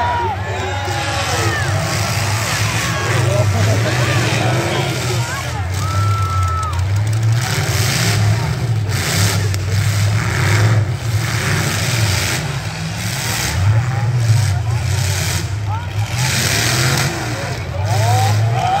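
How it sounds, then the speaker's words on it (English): V8 cars revving and grinding through a demolition derby at the Uxbridge Fall Fair, engines loud and continuous with rough surging throttle over a steady crowd murmur. "here goes the V8 cars"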